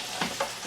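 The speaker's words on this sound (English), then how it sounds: "oh, hear that sizzle" Pork roast browning fat side down in a non-stick slow cooker insert, a close, steady sizzle with two brief flares of louder crackle as the meat shifts.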